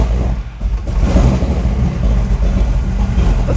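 Car engine fitted with an Edelbrock VRS 4150 carburetor, warm and freshly tuned, given a little throttle: a steady, loud rumbling rev close by, holding fairly even through a few seconds with slight swells, no talking.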